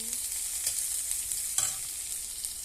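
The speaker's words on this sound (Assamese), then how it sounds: "তাৰপিছত আৰু লগত শুকান জলকীয়া আৰু পিঁয়াজ কাটি দিছোঁ।" Cumin, dried chillies and chopped onion fry in hot oil with a steady bright sizzle, broken by a couple of scrapes as the pan is stirred; nobody talks.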